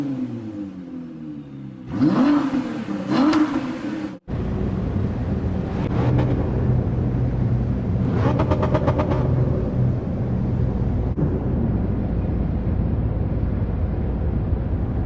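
A 2017 Ford GT and a 2014 McLaren 650S drive on a track. Engines rev hard in short bursts with gear changes, then settle into a steady loud roar and whir as they run.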